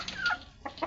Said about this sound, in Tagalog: Oh, ayan yung manok namin